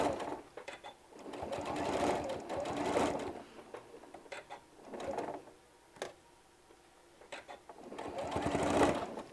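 Sewing machine stitching fabric for a bottle bag holder in close, rapid mechanical bursts that start and stop several times with short pauses between runs.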